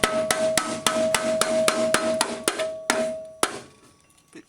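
A hammer taps a rusty Land Rover chassis about a dozen times in an even rhythm, each strike ringing with a clear metallic tone. The taps stop and the ring fades out.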